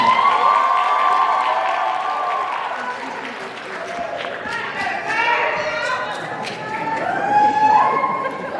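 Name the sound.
audience applause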